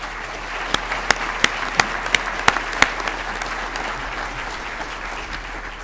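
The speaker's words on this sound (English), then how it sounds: "Please join me in a round of applause." A round of applause at an engineering college commencement ceremony, a large audience clapping steadily throughout, with a handful of crisp individual claps popping out early on.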